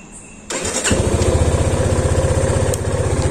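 A Yamaha FZ25 BS6 motorcycle starts with a starter whir, its engine catches and settles into a loud, steady, rhythmic idle close by.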